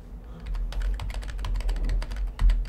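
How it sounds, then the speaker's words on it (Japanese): A computer keyboard is typed on in quick, uneven bursts of close, crisp key clicks, with a low steady hum underneath and no talking. "キーボードですかね、これもう打ってるのがね"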